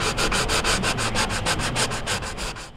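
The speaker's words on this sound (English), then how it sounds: "After a little hand sanding," Hand sanding on a fiberglass boat hull repair, with brisk back-and-forth strokes in a fast, even rhythm, close and fairly loud, with no talking.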